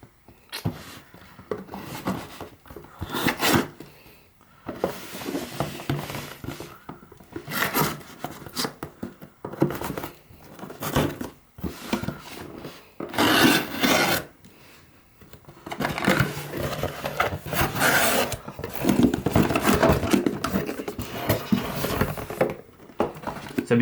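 A Belkin wireless charger stand package is handled and opened, giving irregular bursts of cardboard rustling, rubbing and scraping close up, with short pauses between them.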